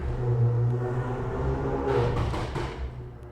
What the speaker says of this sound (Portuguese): Passou um maluco aí de carro.